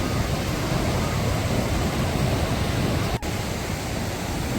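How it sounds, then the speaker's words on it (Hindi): Heavy rain pours down on a mountain trek near Harsil, a dense, loud, continuous hiss that stays constant throughout with no talking. "यहाँ है बारिश बहुत ज़्यादा तेज हो गई है"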